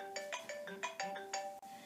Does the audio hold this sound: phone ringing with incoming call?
yes